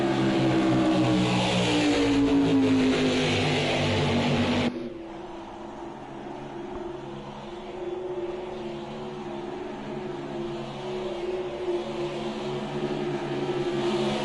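Race car engines from Project Cars 2 at an SCL Thursday Night Thunder oval race, a loud pack of engines sweeping past with a rising whine that drops off abruptly, then a steady nearer engine drone carrying on alone.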